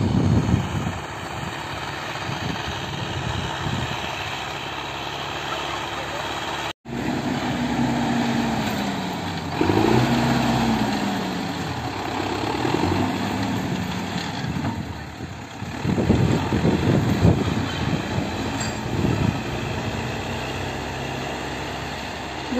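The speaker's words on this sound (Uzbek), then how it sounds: "Bu traktorda ham yerni kavlab, ham orqasidan tekizlab ketyapti." A tractor tills the soil of a vegetable plot and levels it behind as it goes, its engine droning steadily and fairly loud throughout, swelling and easing with the load.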